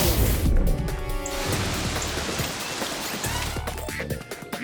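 Rain drums heavily and steadily, a dense hiss of drops poured out by a cloud-making cannon in a cartoon, with a splash and crash near the start.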